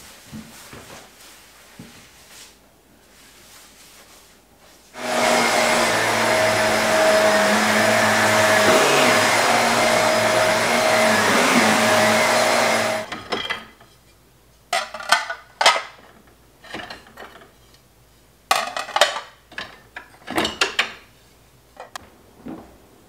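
A vacuum cleaner runs in a home kitchen for about eight seconds, a loud steady whine and roar close by. Around it come quieter clatters and knocks like dishes and drawers.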